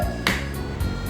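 A single sharp hand clap rings out once, close and crisp, against a quiet room during a scout leaders' training session.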